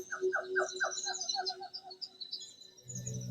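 Rainforest birds chirp in quick repeated phrases, with higher twittering calls layered over them and a low rumble rising near the end.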